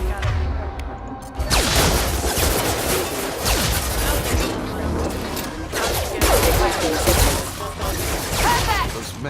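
Combat gunfire in Mass Effect 2 against hostile mechs: continuous loud shooting with impacts, crashes and mechanical clatter, dense and close throughout. Voices speak over the fighting.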